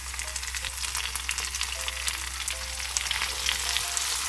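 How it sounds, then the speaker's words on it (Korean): Kimchi stir-fries in green onion oil, a steady close sizzle with scattered crackles and light stirring scrapes running throughout, no voices. "파기름과 함께 달달달 또 볶아주세요"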